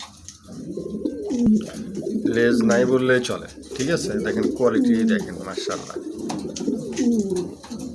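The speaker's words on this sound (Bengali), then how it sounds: "খুবই চমৎকার একজোড়া কবুতর" A pair of pigeons coo repeatedly in soft, rolling low calls, close by, while someone talks over them throughout.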